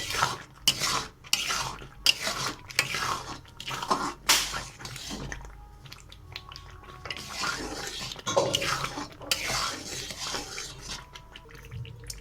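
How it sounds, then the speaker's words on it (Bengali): A spoon scrapes and stirs a chana dal sandesh mixture in a pan at close range. The strokes come in a rhythmic series of rasping scrapes with short pauses between them. "এরকম ঘষে ঘষে নেড়ে নিয়ে শুকিয়ে নিতে হবে একটু সময় ধরে"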